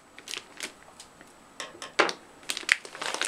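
Scissors cut through packing tape on thick plastic wrapping around a Focusrite Scarlett 2i4 audio interface: a few crisp snips and crackles, close and uneven, mixed with rustling of the wrap.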